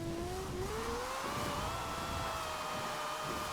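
A Mazda RX-7 with a roughly 700 horsepower quad-rotor engine in Forza Horizon 4 revs hard, its whining pitch climbing steadily and then holding high and sustained, loud and close throughout.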